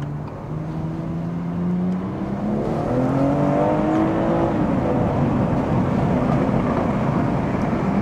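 A BMW F22 M240i fitted with a Scorpion exhaust drives at sunset. Its engine note is loud and steady and rises through the revs midway, over constant road and cabin roar.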